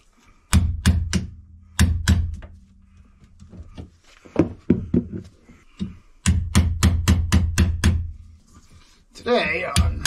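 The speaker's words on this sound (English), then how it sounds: "So we're gonna take a chisel." A chisel is hammered against stripped hose bracket screws aboard a boat: sharp, loud metallic strikes in quick rhythmic runs of five to eight blows, separated by pauses with some speech.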